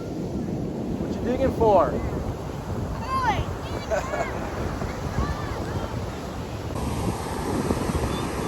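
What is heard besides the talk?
wind at the shore after Hurricane Milton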